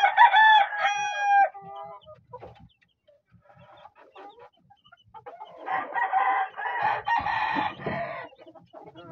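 A Dominican Jade gamecock crows loudly and close at the start, then after a quiet stretch chickens cluck and crow again in a busier burst.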